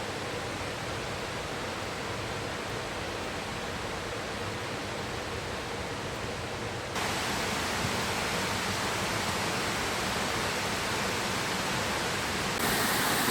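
Waterfall at the Cascades du Hérisson in the Jura, a loud, continuous broadband roar that grows louder partway through, heard close up with no talking.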